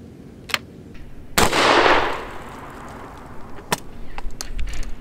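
Henry single-shot shotgun firing a field load at 10 yards: one sharp, loud blast with a short rumbling tail, then quieter clicks and handling noises.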